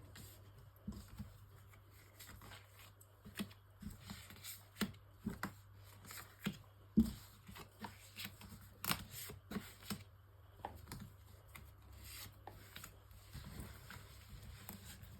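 Tarot cards are shuffled for a nine-card spread, a close, quiet run of soft riffling taps and slaps in irregular bursts over a faint steady hum, with no talking.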